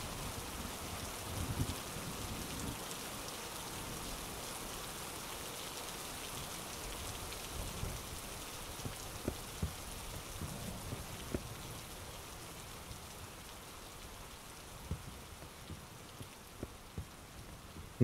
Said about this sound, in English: Nasty weather out, ain't it?